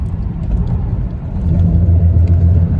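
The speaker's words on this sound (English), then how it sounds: "So we're just in the car." Low, steady engine rumble and road noise inside a moving car, droning evenly and swelling slightly partway through, with no one talking.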